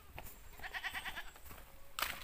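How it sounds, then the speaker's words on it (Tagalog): Goat bleating outdoors, a short series of wavering, pulsing cries followed by another sharp bleat, fairly faint against light background noise. "Yung kambing na yan."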